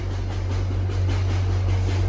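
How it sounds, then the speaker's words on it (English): A train rolls past in the distance with a steady low rumble and continuous broadband noise throughout, no voices. "Oh, it's a train going by."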